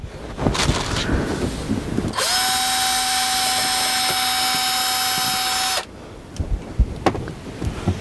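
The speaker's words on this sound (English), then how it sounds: "So we got our drill, we got a spot in the closet" A power drill drilling a hole in a closet whines at a steady high pitch for about four seconds, close and loud, with scattered handling noise before and after.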